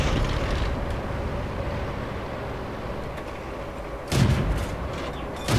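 Light tank cannon fire in a tank video game: one sharp, loud shot bursts out near the end over a steady rumbling engine and battlefield background, followed shortly by a second jolt.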